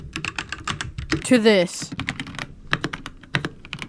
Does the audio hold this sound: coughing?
no